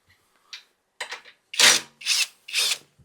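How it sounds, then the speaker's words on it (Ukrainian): An 8 mm wrench loosens a screw while a belt-driven walk-behind tractor is assembled. Several short, close scraping and grinding bursts come one after another in near silence, and they grow stronger toward the end. "Ми відкручуємо даний гвинт."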